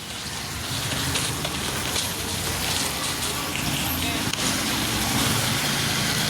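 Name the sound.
vehicle driving in PUBG Mobile video game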